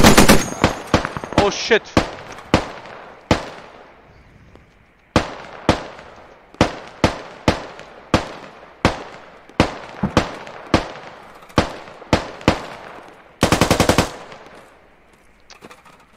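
Machine gun fire in the military shooter Squad, British Army side, loud sharp bursts and single cracks with echoing decay, spaced irregularly, then a rapid sustained burst near the end; a man swears briefly.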